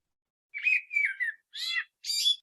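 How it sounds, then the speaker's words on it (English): A bird chirps in four short whistled phrases, clear and fairly close, with small gaps between them and nothing else audible. "Like it's a chirping sound."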